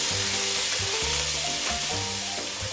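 Vegetables emptied from a bag into a hot pot with glaze and onions, setting off a loud, dense, continuous sizzle that holds steady to the end, with one sharp knock at the very end.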